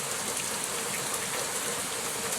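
Heavy rain pounds steadily on the roof of a small hut, a dense, continuous hiss of drops striking the surface with no letup and no voices.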